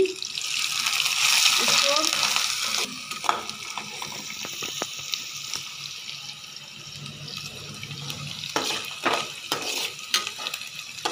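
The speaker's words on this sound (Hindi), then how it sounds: "तेल मेरा गरम हो गया है, अब इसमें डालेंगे ओनियन और चिली" Onion and chili frying in hot oil in a pan for matar paneer, with a loud steady sizzle that eases after a few seconds, interrupted by scattered stirring clatter and brief spoken words.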